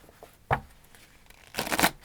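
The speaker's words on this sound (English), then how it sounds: "That was a really bad shuffle." Tarot cards are shuffled close by in two short bursts of papery riffling: a quick flick near the start, then a longer, louder rustle near the end, with quiet room tone between.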